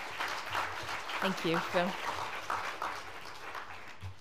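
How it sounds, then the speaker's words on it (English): An audience applauds panelists at a Stockholm International Water Institute event, a soft continuous patter of clapping heard under someone speaking briefly. "Let's give a big round of applause for our panelists."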